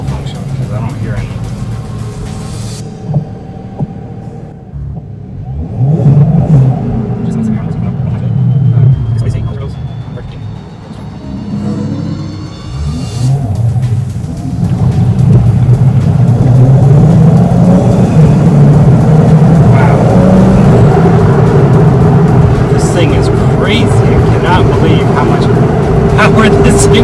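A BMW 335i with the N54 engine, Stage 2+ MHD tune, upgraded intercooler and catless downpipes accelerates hard from inside the car, its loud rising rumble building in waves while a person talks over it.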